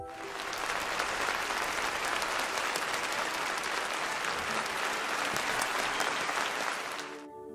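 Applause breaks out at the end of a violin performance in a film, a dense, steady wash of many hands clapping at once that carries on for about seven seconds before cutting off sharply.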